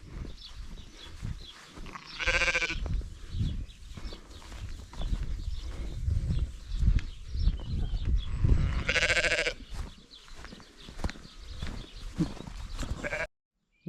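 Sheep on a public footpath in South Wales, two loud, close bleats about seven seconds apart, set against constant wind rumble and walking footsteps.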